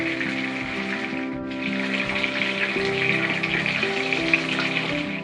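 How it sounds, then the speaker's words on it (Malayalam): Chicken frying in sunflower oil for a biryani, a steady close sizzle with bubbling crackle running throughout, briefly dipping near the start, with no talk. "ആ സമയം കൊണ്ട് എന്റെ ചിക്കൻ ഞാൻ വറുത്ത് കോരാൻ പോവാ"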